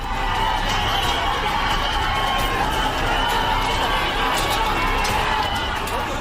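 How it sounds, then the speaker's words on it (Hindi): A large crowd clashing with police in Badlapur, Maharashtra, after stones were thrown and a school was wrecked: a dense, continuous roar of shouting and commotion that stays loud and steady throughout. "पुलिस वालों से भिड़ती ये भीड़ है"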